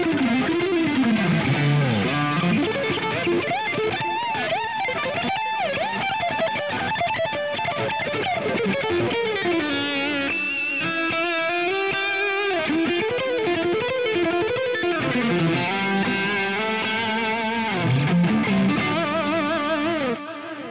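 Electric guitar played through a Neural Amp Modeler amp profile with delay, a thick, bright, slightly distorted tone with melodic runs and repeating echo tails, loud and continuous with no talking.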